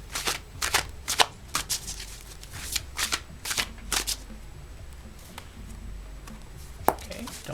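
Ancestral Path Tarot cards being shuffled up close in a series of sharp riffling bursts, dense at first and then thinning out to occasional snaps with quiet gaps; no voices.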